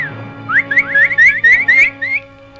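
A nightingale sings from high on a branch among trees: a quick run of bright, repeated whistled notes, clear and fairly close, with no talking over it.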